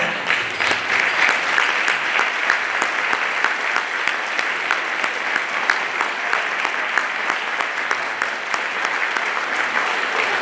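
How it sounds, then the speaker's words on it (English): A crowd of people at a community breakfast event claps for veterans, with steady, sustained applause at an even level throughout. "we would like to recognize you and give you all a big round of applause"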